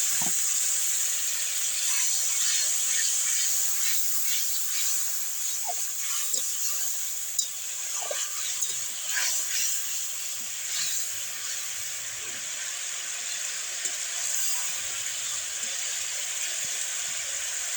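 A Bengali fish curry spice mix sizzles and hisses steadily after water is added to the pan, a constant bright frying hiss with faint scattered pops throughout.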